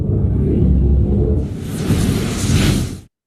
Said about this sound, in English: long whooshes